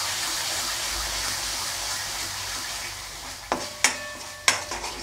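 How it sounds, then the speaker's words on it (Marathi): A garam masala and spice mixture frying in a pan for a traditional modak amti curry, a soft steady sizzle that gives way to a few sharp spoon knocks and scrapes near the end. "आता हे मिश्रण चांगलं फ्राय करून घ्यायचं आहे"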